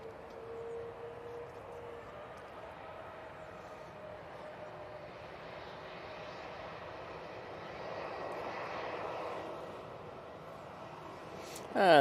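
A distant airliner arrives at Manchester Airport on its return flight from Gibraltar, a low steady engine drone with a soft swell near the end, and a brief sharp voice cutting in at the close.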